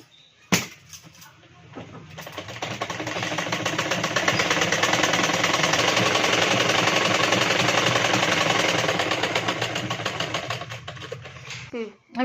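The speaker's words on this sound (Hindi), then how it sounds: "यहाँ से हम पूरे पे सिलाई लगाएंगे" A sewing machine runs steadily while stitching blouse fabric and lining, a close, loud, even whirring hum that starts after a clunk and stops about eleven seconds later.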